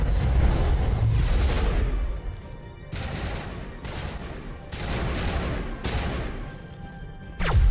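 Sniper rifle gunfire in the video game Mass Effect on Noveria, a few loud sharp cracks with booming tails, spaced apart over a constant rumbling battle background.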